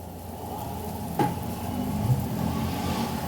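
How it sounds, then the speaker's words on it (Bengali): Spices fry in hot oil in a pan, giving a steady, close sizzle with soft scraping as they are stirred and one sharp clink partway through; no one speaks. "তারপর ভালো করে আমি নাড়তে থাকবো। যখন বেশ কষে কষে তেল বেরিয়ে আসবে"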